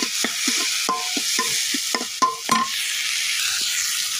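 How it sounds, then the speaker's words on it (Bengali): Dried shrimp frying in mustard oil in a pan hiss in a steady sizzle, broken by a quick run of sharp scraping stirs from a spatula, close and loud, with no talking. "আমাদের চিংড়ি মাছ কিন্তু লাল লাল করে ভাজা হয়ে গেছে"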